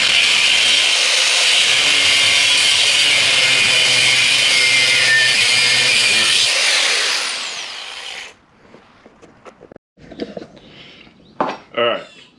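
A power drill bores out the rivets on a clutch plate, a loud, steady whining grind for about eight seconds that then winds down, followed by scattered metallic clinks and handling noises up close.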